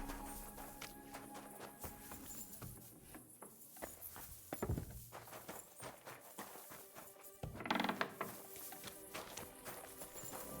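A horse walks in the medieval game Kingdom Come: Deliverance 2, its soft hoof clops faint under a busy, noisy game soundscape with no clear speech.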